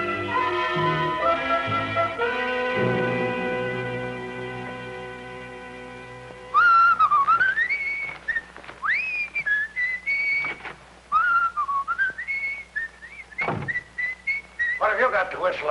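A person whistles a tune, a single clear melodic line with sliding pitches and short pauses, entering after several seconds of steady background music and continuing to the end.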